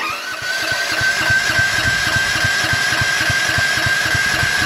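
A 9000W generator engine, running on gas for the first time in very cold weather, catches and settles into a steady, loud, close idle with a rapid pulsing thrum and a constant whine.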